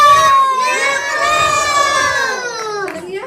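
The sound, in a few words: crowd cheering and shouting together at a film press event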